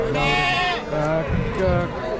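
A sheep bleats loudly nearby at a livestock market in Chakan, Maharashtra, in a long wavering cry, followed by shorter bleats amid background chatter.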